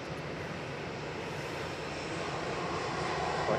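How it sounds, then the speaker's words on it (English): A Ryanair Boeing 737-800 touching down at Manchester Airport from Milan produces a steady, moderately distant jet engine roar that swells slightly near the end, with no talk over it. "Ryanair coming in hot. Just touching down from Milan, it's Boogeyman."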